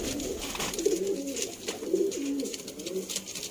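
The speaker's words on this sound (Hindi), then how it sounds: "ऐने सियालकोटी 35 वाले कबूतर दोस्तों" Sialkoti 35 pigeons cooing in a steady repeated rhythm, several low soft coos close by with no talking over them.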